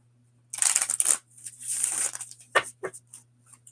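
A deck of oracle cards is shuffled close up, giving bursts of papery riffling and crinkly rustling followed by a few sharp snaps and taps, alone with no talk.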